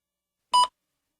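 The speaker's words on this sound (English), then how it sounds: "Please begin speaking after the beep." A single short electronic test beep, a clean steady tone lasting a fraction of a second, alone in otherwise silent surroundings, marking the start of a spoken response.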